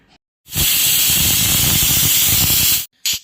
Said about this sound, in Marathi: कुकरची एक शिट्टी झालेली आहे